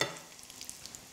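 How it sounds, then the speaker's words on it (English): Chicken fillets sizzle in olive oil in a frying pan, a steady soft crackle with scattered small pops close by, no talking. "I hear that sizzle."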